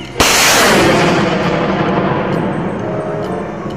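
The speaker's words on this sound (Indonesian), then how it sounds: "mobil truk peluncur roket" A toy rocket-launcher truck fires its sound effect, a loud sudden blast like artillery that opens sharply and then trails off into a long rumbling decay, heard alone and close.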